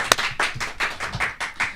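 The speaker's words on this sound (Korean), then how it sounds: "큰 박수로 환영해 주십시오." A few studio guests clap to welcome a guest on a Korean talk show, a brief run of about seven close, moderately loud handclaps.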